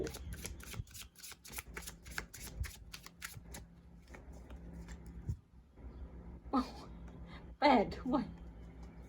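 Tarot cards shuffled in quick crisp riffles, then slid and laid out on a table with soft snaps and rustles, while a person talks quietly over them.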